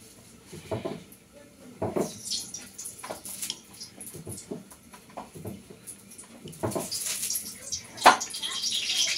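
Hands being washed under running water in a home kitchen, with splashing and trickling in short irregular bursts, some clatter of dishes, and someone talking throughout.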